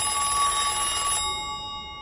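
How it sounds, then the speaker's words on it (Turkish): A telephone in a house rings in a scene from the TV drama From, season 3 episode 2, a steady electronic ringing tone that cuts off partway through, leaving a faint hum behind. "Kapanıştan hemen önce Jim'in evindeki telefon çaldı"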